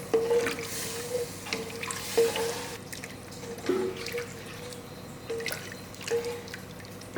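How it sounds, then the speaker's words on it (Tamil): Water poured into a Madras-style fish curry, a soft close trickle with small drips and pan clinks recurring every second or so. "இப்போ இந்த குழம்புக்கு தேவையான அளவுக்கு தண்ணி ஊற்றிடலாம்."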